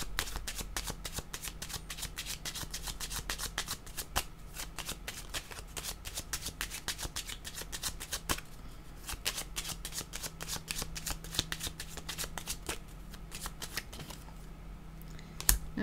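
Tarot cards are shuffled up close in rapid bursts of crisp riffling flicks and taps, with a brief pause partway through before the shuffling picks up again.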